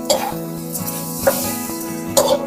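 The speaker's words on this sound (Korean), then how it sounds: "여기다가 아까 그 멸치 볶은 거 있죠? 투척하면 됩니다" Stir-fried anchovies are tossed into seasoning in a pan, giving a few short scrapes and light clatters over a low sizzle, close by, with a brief throat sound in between.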